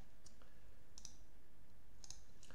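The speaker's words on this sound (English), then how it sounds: "You can get that from the editor here by clicking on this button." A few crisp mouse clicks on a software button in an editor sound against quiet room noise, two close double clicks near the middle and end, with no voices.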